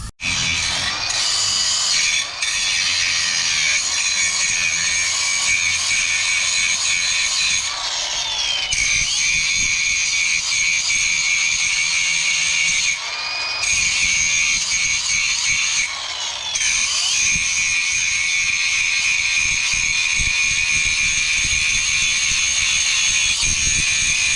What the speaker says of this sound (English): We're gonna cut some more welds and continue beating on this thing.